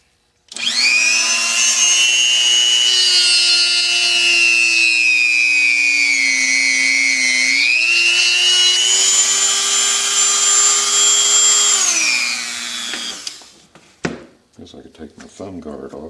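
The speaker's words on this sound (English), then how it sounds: "So I'm going to drill it a little deeper." Power drill boring into a buffalo skull, a loud whirring motor with steady pitch under load that dips briefly midway, runs for about twelve seconds, then cuts off with a few clunks.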